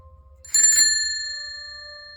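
A single bicycle bell ring, used as a sound effect in a horror story, rings out bright and clear over a quiet background and then fades away slowly.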